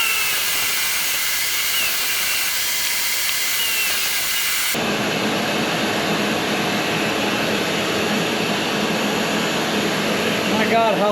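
A workshop shop vacuum switches on partway through, its loud, steady broadband roar taking over from a quieter hiss and continuing to the end after it is turned back on to suck up metal particles.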